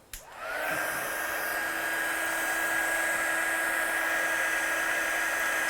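A hair dryer blows steadily to dry freshly applied ink, switching on with a brief rise and then holding a loud, even whine and rush of air throughout with no talking.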